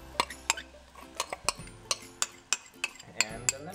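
A utensil knocks and scrapes against a pan as shallots go into garlic cooking in oil, a dozen or so sharp, close metallic clinks in an uneven rhythm over a quiet background.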